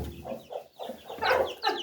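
A hen with newly hatched Lari chicks, giving a close run of short clucks and soft peeping calls that come in uneven bursts, louder toward the end.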